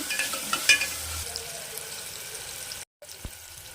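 Tomatoes sauté in a pan with a steady low sizzle and a few stirring scrapes, close by with no talk and a brief silent gap near the end.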